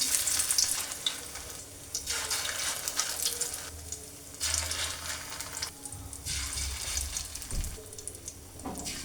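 Shrimp fritters frying in a wok of hot oil over low heat, a steady bubbling sizzle with watery hiss that swells and dips in broad waves, fairly close and continuous with no voices.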